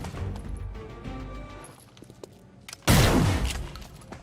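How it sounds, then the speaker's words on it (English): A shotgun blast in the video game Chimera Squad erupts loud and sudden near the end, with a sustained crashing roar after it, preceded by quieter game ambience and faint scattered clicks. "The shotguns do a fair bit of damage."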